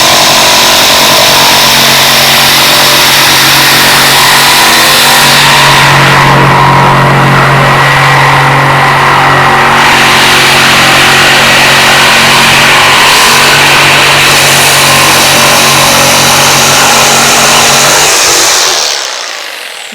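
A SKIL 5-amp corded jigsaw cuts a bevel, giving a loud, steady motor whine with a buzzing blade that holds for about eighteen seconds before cutting off abruptly.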